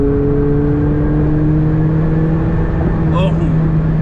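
McLaren 720S supercar with a 700+ horsepower engine accelerating hard from the driver's seat, a steady engine drone with rising tonal hum throughout, close and loud, with a voice talking over it.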